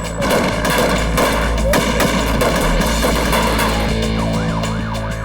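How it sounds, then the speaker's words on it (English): Heavily armed kidnappers open fire on police in a loud, dense burst of rapid gunshots that runs throughout, while a wailing siren-like tone rises and falls underneath. "The heavily armed kidnappers see only the 2 officers and open fire."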